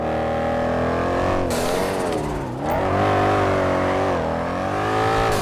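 A powerful motorbike engine in GTA V, loud and close, revving steadily with pitch rising and falling as it accelerates, over a continuous roar with no talk.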